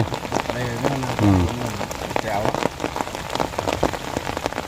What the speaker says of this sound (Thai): บรรยากาศฝนตกสดชื่นขนาดครับ